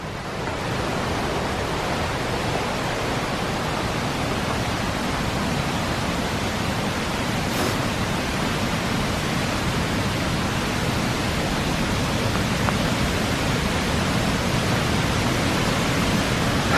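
Water rushes through a rocky gorge below a rough trail at Clifton Gorge State Nature Preserve. The roar is a steady, broad wash that continues unbroken and is heard alone.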